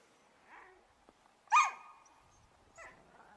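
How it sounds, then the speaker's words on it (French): Norrland husky sled dogs in Lapland: a single sharp bark stands out near the middle, with a few softer yips and whines before and after against a quiet background. "Les voilà les petits chiens là, fantastiques chiens."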